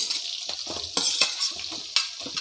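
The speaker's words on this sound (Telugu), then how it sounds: "ఆనియన్స్ వేసుకుంటున్నా, చూడండి." Onions added to a hot pan hiss into a bright, close sizzle, broken by a few sharp scrapes and clatters of a utensil against the pan at roughly half-second intervals.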